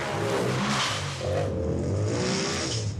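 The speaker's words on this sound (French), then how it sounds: "C'est le cas ici de R.J. Anderson au volant de son Polaris RZR." A Polaris RZR off-road vehicle engine revs loudly and continuously, rising and falling in pitch with a gritty, close roar.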